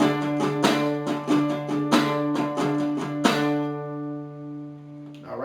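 Guitar riff is played alone, with repeated picked notes over a ringing low tone, ending in a sustained chord that slowly fades.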